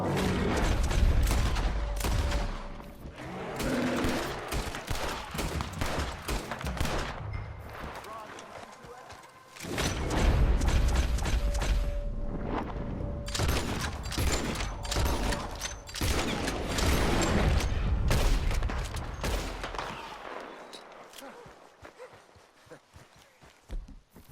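Gunfire in Red Dead Redemption 2 during a horseback chase, with repeated shots mixed into galloping hooves, mechanical clatter and frequent character dialogue, loud and dense throughout before thinning near the end.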